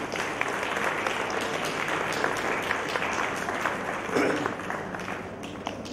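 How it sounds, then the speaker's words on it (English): Steady applause from a large audience at a live-streamed event honouring a departing guest, dense and continuous for several seconds with a brief swell near the end. "One more round of applause for Darling."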